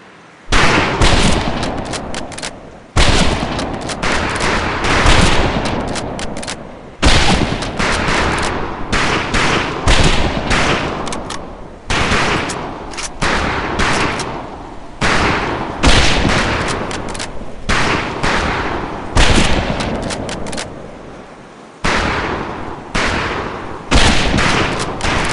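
Rifles fired at an outdoor shooting range, loud close shots in rapid volleys and strings, separated by short pauses, with echoing tails throughout.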